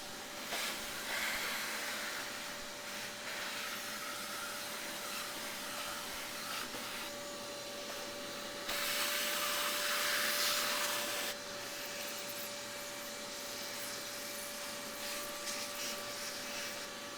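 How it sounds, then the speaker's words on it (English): A shop vac runs steadily the whole time, sucking dust out of an early-2000s AOpen custom PC during a teardown, with a brief louder surge partway through and no talking. "this time I decided to save a lung and use a shop vac"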